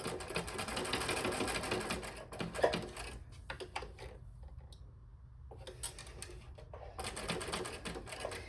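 A sewing machine loaded with light pink thread runs in bursts of rapid, even stitching, stopping and restarting a few times at close range, with no talking.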